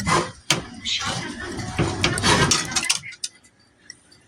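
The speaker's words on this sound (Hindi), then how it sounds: "और अब कढ़ाई खाली करूं, पास्ता इसमें पलटूं।" Pasta tipped out of a kadhai into a dish in a home kitchen, a dense clatter of metal and food sliding for about three seconds, then a few faint clinks as it settles.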